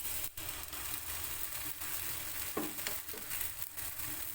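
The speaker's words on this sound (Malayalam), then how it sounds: "ഇനി നമുക്ക് ഇതിലേക്ക് മാവ് ഒഴിച്ചു കൊടുക്കാം." Breakfast batter meets a hot oiled pan with a quiet, soft sizzle, broken by a few faint clicks and scrapes of a ladle; low in level and without voices.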